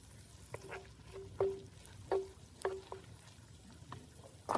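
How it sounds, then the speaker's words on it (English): Garlic frying in a pan over a campfire, with a soft sizzle and a few distinct scraping stirs of a utensil about every half second, fairly quiet and close. "Give that a good stir up."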